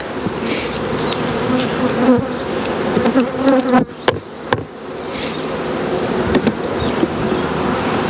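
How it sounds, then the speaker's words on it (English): Dense, steady buzzing of many bees close by, continuous throughout with a few sharp knocks and clicks partway through. "we'll just smoke the bees down"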